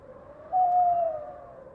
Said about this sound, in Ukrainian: Це у нас сова.